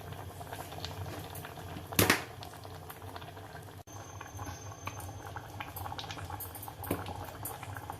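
A pot of ash gourd kootu, a Tamil lentil curry, bubbles and simmers steadily up close on medium flame, with soft popping and gurgling and one louder clatter near the start.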